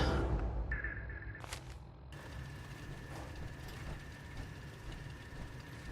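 Master-level lockpicking in Fallout 4: a few sharp metallic clicks and ratchety scrapes up front, then a tense sustained tone over a low mechanical hum.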